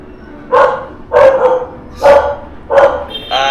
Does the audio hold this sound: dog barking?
yes